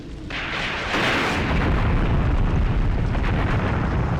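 Artillery fire and explosions boom in the war game Graviteam Tactics, a dense, continuous roar of rumbling blasts that swells after the first second and stays loud throughout.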